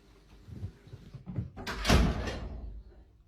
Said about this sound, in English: do you mind closing the door for me?